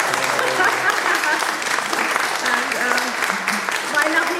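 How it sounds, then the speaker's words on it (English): Audience applause fills a theatre hall, a dense steady wash of many hands clapping throughout, with faint voices mixed in underneath. "the audience ought to put their hands together and clap our children"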